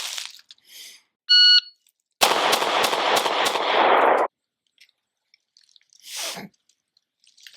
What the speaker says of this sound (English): this is the Smith & Wesson Shield.